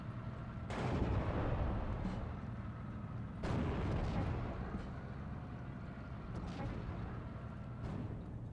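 Artillery fires in a Steel Division II battle, with repeated heavy booms rolling in over a constant rumble, some near and some distant, and no speech.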